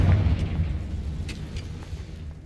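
A Confringo fire spell in Hogwarts Legacy bursts with a heavy boom at the outset, its rumble fading away over the next two seconds.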